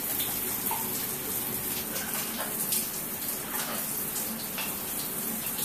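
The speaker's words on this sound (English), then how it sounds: "That barely qualifies as a shower if you don't get wet." Steady broadband hiss of a shower running, water spraying and splashing continuously at even loudness throughout, with no voices.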